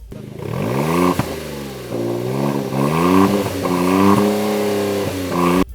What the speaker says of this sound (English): make it sound a little bit throatier,